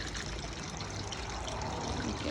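Water trickles and splashes steadily through a patio pond bog filter, a close, continuous dribbling flow with no other sounds over it.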